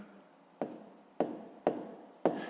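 Pen on paper writing a fraction by hand: four distinct scratchy strokes, each starting crisply and fading, spaced about half a second apart and close up, with no talking.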